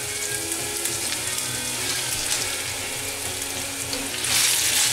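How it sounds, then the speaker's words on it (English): Sirloin beef stir frying in a hot pan with baby spinach to come, a steady close sizzle with faint stirring scrapes, swelling louder near the end, heard alone. "And stir fry for 2 minutes or until the beef is just cooked."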